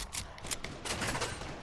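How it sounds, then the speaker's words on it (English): Pump-action shotgun firing in a video game, a burst of broadband blasts with sharp transients packed close together over a couple of seconds, fairly loud against a busy game mix. "And that thing with the pump, oh my gosh, this thing takes too long to fucking shoot."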